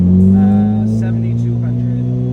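A Mitsubishi Evo 8 engine on a dyno holds a loud, steady high-rpm drone near the rev limiter, then eases slightly lower, close and continuous throughout.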